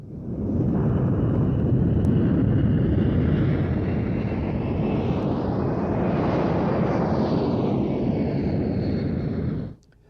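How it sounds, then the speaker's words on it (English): A C-17 Globemaster III heavy cargo jet passing at an air show, a loud steady engine roar with a sweeping pitch shift as it goes by, then cutting off sharply. "Latest in the USAF inventory for a long-range inter-theatre heavy cargo ship is this C-17 Globemaster III"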